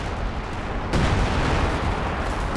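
Machine gun and battle fire in Company of Heroes 2, a steady dense rattle of shots that jumps louder a second in and keeps going with rumbling distant booms.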